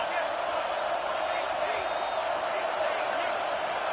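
A stadium crowd in an American football video game swells and roars during a third-down defensive stand, a broad, steady wash of noise with a commentator's voice running over it.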